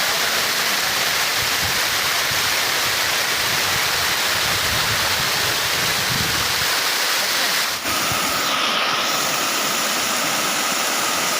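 A steady, loud rush of the Gordharo River flowing in Nagarparkar, Tharparkar, fills the scene, a dense roar without pauses, close and continuous.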